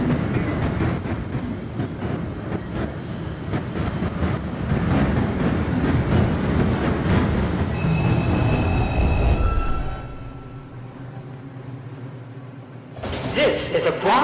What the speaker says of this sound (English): This is a Bronx-bound 2 express train.